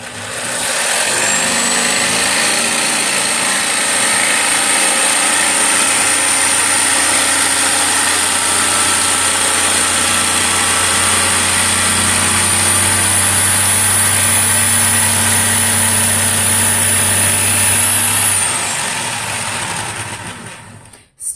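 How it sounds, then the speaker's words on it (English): A jigsaw cuts a heart-shaped wooden sign, a steady, loud, high-pitched motor whine with a continuous buzzing blade that runs unbroken for about eighteen seconds before winding down. "Stop the jigsaw when you want to take your blade out."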